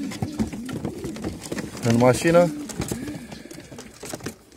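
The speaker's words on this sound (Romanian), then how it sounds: "avem aici două zaplase cu porumbei" Pigeons held in crates beside a vehicle coo softly and repeatedly, close by, while someone speaks over them.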